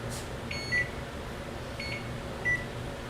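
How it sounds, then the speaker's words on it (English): A small electronic device gives short beeps, three brief tones spaced through the clip, heard faintly over a steady room hum with no one talking. "it was beeping, and hopefully I made it stop"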